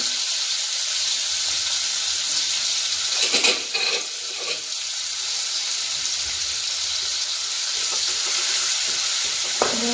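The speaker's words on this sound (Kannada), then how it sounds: "ಈಗ ಎಣ್ಣೆ ಒಳಗೆ ಹಾಕೋತೀನಿ. ಮತ್ತು ಸ್ವಲ್ಪ ಹೊತ್ತಿನಾಗೆ ಫ್ರೈ ಆಗಬೇಕು." Crushed green chillies frying in hot oil give off a loud, continuous sizzle and hiss, with a few stirring scrapes partway through.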